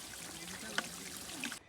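Spring water trickles on a mountain trek to Bhimashankar, a steady, soft, close-up flow with one brief brighter splash midway, heard alone for under two seconds.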